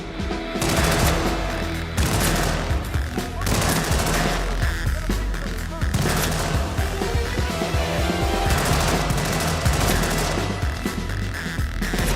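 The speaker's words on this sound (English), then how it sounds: "I get frustrated when I'm not making any progress, so then I shoot up the entire place." Sustained gunfire rips through a Hitman VR shootout, dense bursts of rapid automatic shots and single cracks rattling almost continuously and loudly, with crashes mixed in.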